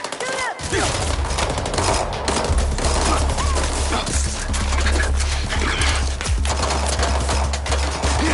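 Rapid gunfire in a combat scene, dense bursts of shots crackling continuously and loud throughout, with a low rumbling bed underneath and faint shouting mixed in.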